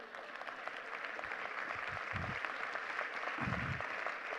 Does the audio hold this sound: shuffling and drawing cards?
no